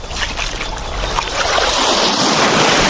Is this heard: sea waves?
yes